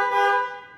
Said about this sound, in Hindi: हॉर्न का एक बारी साउंड का रिस्पॉन्स अगर पता लग जाता है